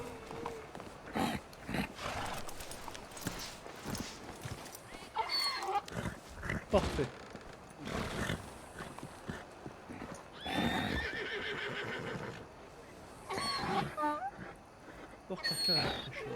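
A horse in the video game Red Dead Redemption whinnies and neighs while its hooves clip-clop, and people talk in French over the animal sounds.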